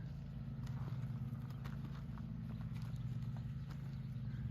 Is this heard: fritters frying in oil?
no